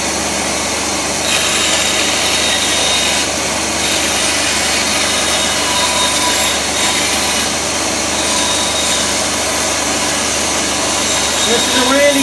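A benchtop craft bandsaw runs steadily while cutting 8–9 mm plywood, a continuous mid-loud motor hum and blade whir with no slowing, sustained throughout without speech.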